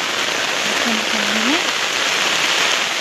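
Heavy rain pours steadily on a rural farm plot with okra plants, a dense continuous hiss with no breaks, and a voice briefly speaks underneath it.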